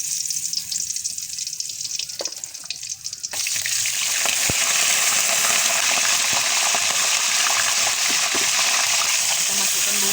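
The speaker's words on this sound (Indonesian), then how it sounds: "Ini kita udah panaskan minyak ya, kita mau goreng rempahnya dulu atau kita tumis." Spice paste dropped into hot oil sets off a sudden loud, dense sizzle that holds steady after a quieter opening, for beef and young jackfruit rendang.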